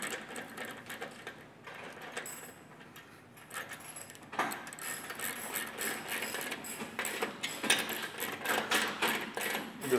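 Mechanical clicking and ratcheting as a part is snugged up on a car wash pendulum during maintenance, quiet and close, with irregular taps and metallic rattles that grow busier partway through.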